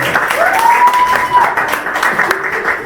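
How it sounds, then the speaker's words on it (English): Audience at a magic show applauding and clapping for departing volunteers, a steady mid-level wash of claps with a brief whistle-like tone and some voices mixed in. "Give them a big round of applause. Give them a big clap."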